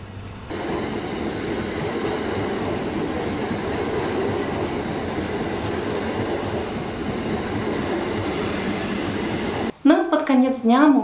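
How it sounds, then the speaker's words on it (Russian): A train rumbles past close by at a level crossing in Canterbury, England, in a continuous loud roar of wheels on rails, and a voice speaks briefly at the very end. "и машины все останавливаются, когда идет поезд"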